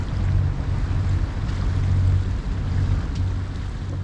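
Sailing yacht motoring out of the marina at Marmaris, with a steady low engine drone and rushing wind and water noise filling the whole stretch.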